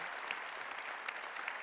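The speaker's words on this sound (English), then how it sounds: "deserves another round of applause" An audience at a national sports awards ceremony applauds after the national anthem, giving a steady wash of clapping that sounds fairly faint and distant.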